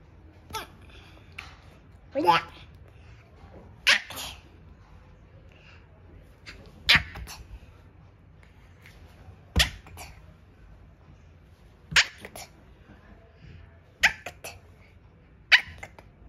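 A voice makes short, sharp imitation sneezes, about eight of them spaced irregularly over quiet background.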